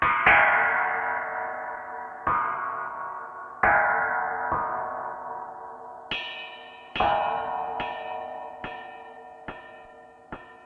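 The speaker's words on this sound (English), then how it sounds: "so it does create kind of an echo" Sampled voice on a Casio FZ-1 sampler looping with an echo effect, a series of bright struck tones, each decaying and repeating at irregular intervals, with no talking.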